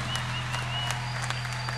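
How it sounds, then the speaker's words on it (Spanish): An audience applauds dancers at a recital, a dense steady patter of clapping over a constant low hum, with no break in it. "Un aplauso para las bailarinas."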